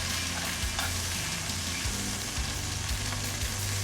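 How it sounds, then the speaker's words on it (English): Meat sears in a cast iron pan with a loud, steady sizzle, broken by several sharp clanks and scrapes of turning and moving it, close up with no talk. "You get the best sear on a cast iron."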